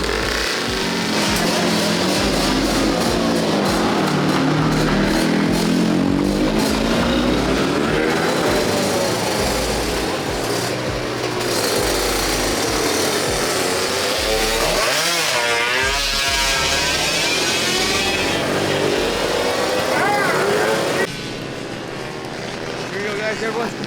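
Race vehicles on a warm-up lap before the final endurance round of the TMGP at SpeedSportz, their engines droning and revving continuously close by, with pitch swells and sweeps as machines pass, loud throughout and thinning slightly near the end.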